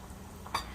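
Homemade yuca fries frying in oil, a steady soft sizzle heard close up, with one brief sharp pop or clink partway through and no voices.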